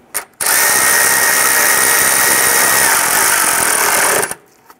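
A power tool, likely a drill or impact driver, runs loud and steady for about four seconds, snugging down a bolt while an AC condenser is replaced on a 1994-2004 Ford Mustang. It starts and stops abruptly.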